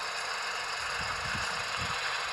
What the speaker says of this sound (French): Un tracteur.